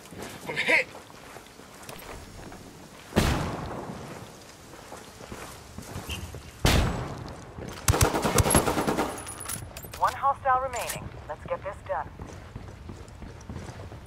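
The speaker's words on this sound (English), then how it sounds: "Under heavy fire!" Heavy gunfire in a video game battle, with bursts of rapid automatic fire and sharp loud shots, close and loud, mixed with shouted voices and footsteps.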